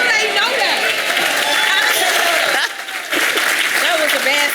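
A room full of people breaks into applause after a group birthday greeting, steady clapping mixed with crowd voices and chatter throughout, with a brief dip near the end before it swells again.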